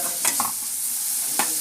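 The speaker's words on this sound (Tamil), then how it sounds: "கொஞ்சம் வெங்காயம் வதங்கிறதுக்காக நல்லா வதங்கட்டும்" Onions sauté in a pan for earal thokku, giving a steady soft sizzle while a spoon stirs and scrapes the pan a few times, close and alone.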